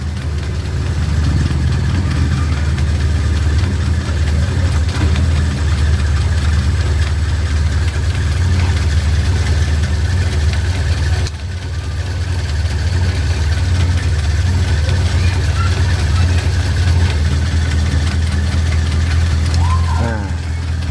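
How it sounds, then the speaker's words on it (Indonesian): A Suzuki Katana car engine idles steadily and evenly up close, a constant low rumble that holds without revving for the whole stretch. "Ini sudah stabil mesinnya lur."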